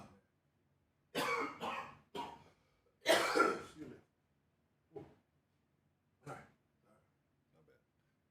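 A person coughs up close into a microphone, several times in a row. There are two loud harsh bursts and then a few quieter ones, with silence between them.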